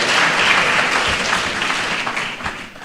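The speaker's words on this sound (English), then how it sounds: "Let's give him a round of applause" Dense, loud applause fills an auditorium at an inaugural university lecture, a continuous wash of many hands clapping that eases slightly toward the end.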